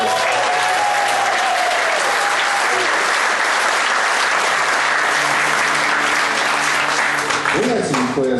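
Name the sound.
audience applause at a bluegrass concert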